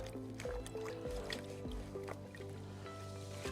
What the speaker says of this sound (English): Beautiful, all that dirty oil's coming right off.